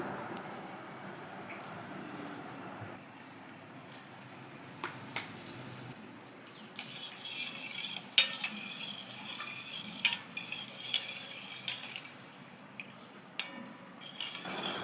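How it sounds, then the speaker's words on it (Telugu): Ground pepper and cardamom powder are mixed into milk with a utensil, giving faint, scattered clinks and soft swishing scrapes that grow busier toward the end, over a quiet kitchen background. "మిరియాల పొడి, యాలకుల పొడి కూడా వేసుకుని బాగా కలపాలి"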